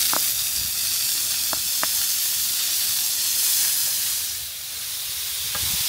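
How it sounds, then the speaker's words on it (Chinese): Green pepper and ham stir-frying on a large griddle, giving a loud, continuous steamy hiss and sizzle, with a few sharp clicks of a utensil scattered through it. "现在有请水盐大厨，就是我们专门带了一个烤盘，又来炒菜"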